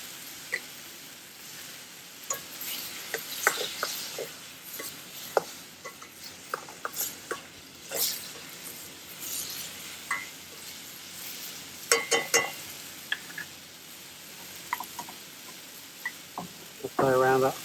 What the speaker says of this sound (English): Add in the tomatoes.